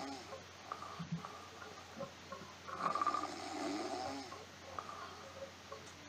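Soft snoring with a steady rhythm of slow, raspy breaths over a low background hum. It sounds faint and somewhat distant, with no talking over it.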